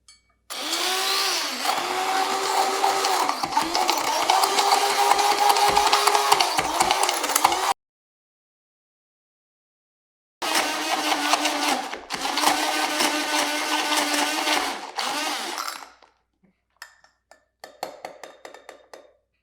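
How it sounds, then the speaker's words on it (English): A stick blender whirs loudly while mixing sourdough starter in two long bursts separated by a pause, then trails off into faint scraping and clinking. "So I'm going to use a stick blender."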